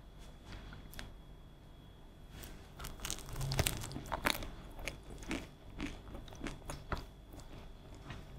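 Crunchy bites and chewing of a whole wheat toast crostini topped with cream cheese, arugula, bacon and cherry tomatoes, close and crisp, with irregular bites and crackles alone without talk.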